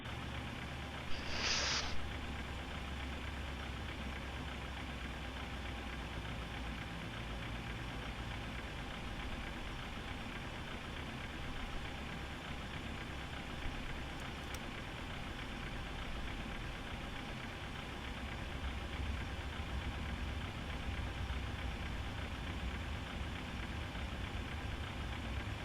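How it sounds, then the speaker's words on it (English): Number 1 engine of a PMDG Boeing 737-800 in a flight simulator spools up and runs as a steady, even jet whine and low rumble, continuous and unchanging throughout with no voices. "Start engine number 1."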